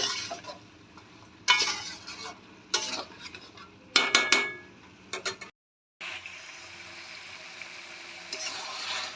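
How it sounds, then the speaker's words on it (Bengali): Chicken curry fries in a pan while a spoon scrapes and stirs in short, intermittent strokes over a soft sizzle, with a brief pause midway before the frying hiss resumes. "আমি এবার ভালো করে ফ্রাই করে নেব।"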